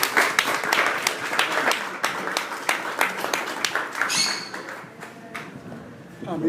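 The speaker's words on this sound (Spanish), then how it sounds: "Un aplauso para Luis Francisco Cintrón Morales." An audience at a literary workshop's novel presentation applauds an author, a burst of individual hand claps heard close, thinning out toward the end with a faint voice underneath.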